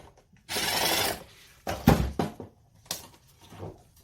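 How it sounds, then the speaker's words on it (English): A capacitor being worked loose from a failed garage door opener, a few close scraping and rasping bursts of metal and plastic with a sharper clunk midway and short pauses between, no talking. "So we'll go ahead and take the capacitor off of here."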